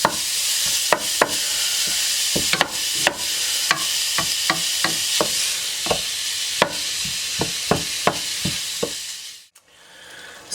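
Ground hamburger meat browns in a pan with a steady, close sizzle, broken by sharp spatula taps and scrapes as it is broken up, the frying dropping away abruptly near the end.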